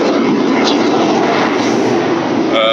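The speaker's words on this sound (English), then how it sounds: "an airport that services a lot of military airplanes" Military airplanes fly low overhead near an airport that services them. A loud, continuous engine roar fills the whole stretch and stays near-constant throughout.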